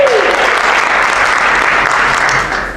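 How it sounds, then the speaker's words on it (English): Audience applause at a late-night magic competition, loud sustained clapping from a full room that tapers off at the end. "I didn't earn that applause"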